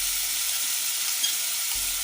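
Chilies drop into a hot pan for Assamese sidol chutney, giving a steady, close hiss of frying oil with no talk.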